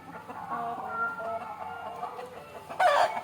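A chicken inside a coop gives soft, repeated clucks, close by, with a louder squawk near the end.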